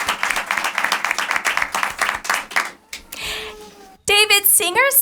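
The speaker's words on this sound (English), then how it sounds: "Round of applause for her," Audience at a Capitol Hill teacher celebration briefing applauding, a dense burst of clapping that fades out, followed by people talking.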